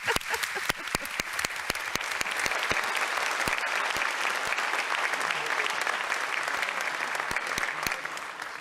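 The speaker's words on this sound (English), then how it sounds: "Let's have a round of applause for human passion and creativity." Applause from a lecture audience at a Nobel laureate panel on creativity, dense sharp hand claps rising at once and sustained evenly for several seconds, close and fairly loud, with no talking over it.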